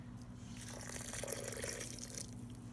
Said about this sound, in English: I'm going to add in my liquid